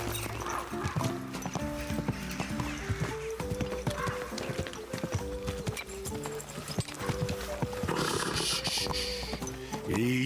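Horse hooves clip-clop steadily in a busy rhythm in the video game Kingdom Come: Deliverance 2, with an occasional whinny rising over a dense, steady background of ambient noise.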